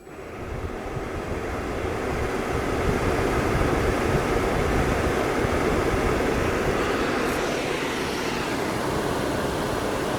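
A Fogatti RV furnace blower spins up and then holds a loud, steady broadband fan roar, close to the microphone, with no talk over it.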